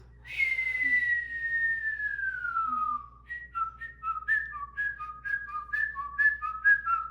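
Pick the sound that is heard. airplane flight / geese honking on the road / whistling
whistling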